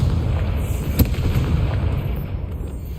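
An explosive blast spell going off in Hogwarts Legacy on PS5, a sharp burst near the one-second mark over a dense, rumbling game soundscape of crackle and low booms.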